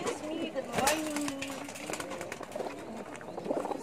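A pigeon priced for sale at a pet expo coos in a few soft, low calls amid the busy murmur of a crowded hall, with people talking nearby throughout.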